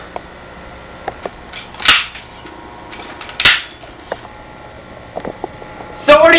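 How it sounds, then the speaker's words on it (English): Staple gun firing staples, a few sharp, loud snapping shots spaced a second or more apart, with someone talking around them. "we're going to learn how to use a staple gun"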